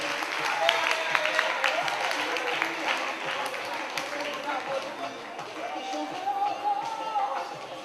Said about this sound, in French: Les applaudissements vont au rythme de la démarche.